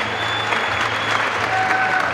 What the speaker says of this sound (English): They just gave you a round of applause.